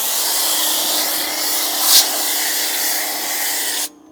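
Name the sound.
spraying cleaner inside wheel barrels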